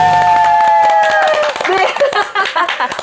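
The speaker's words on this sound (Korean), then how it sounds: "오늘은 좀 더 미친 듯이 한번 쳐봐요. 물개 네. 박수로. 네, 박수!" Studio audience clapping on a Korean political talk show, a burst of many hands layered under a host's loud voice throughout.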